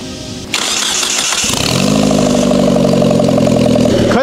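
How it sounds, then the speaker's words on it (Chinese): A standalone car engine, out of the vehicle on a stand, cranks over on its starter motor, catches and settles into a steady loud idle with a rhythmic chug, heard close. "接下来我们就启动一下，看能否启动成功。"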